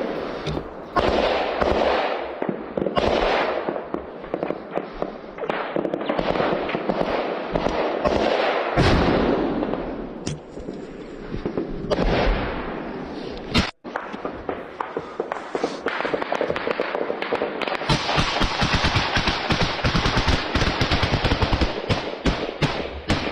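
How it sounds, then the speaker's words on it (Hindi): Gunfire on a Ukrainian war front between Ukrainian and Russian forces, recorded on a soldier's body camera: dense, continuous bursts of close shots and cracks with constant rustling movement. "सामने की फायरिंग का वीडियो भी आया है।"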